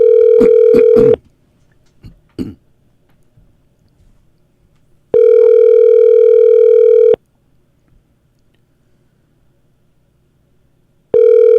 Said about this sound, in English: We're going to call the Black Duck Tattoo Company in Selden